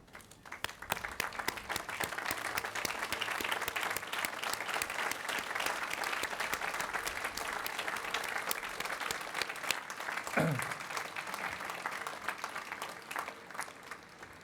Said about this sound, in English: give your parents, families, friends a round of applause